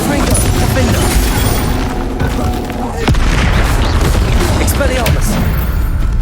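Confringo fire spell explosion in the Hogwarts Legacy video game: a loud, dense wash of battle noise with one sharp blast cracking through about halfway, followed by continuous rumbling and crackle.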